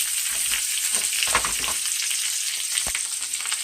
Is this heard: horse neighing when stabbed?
no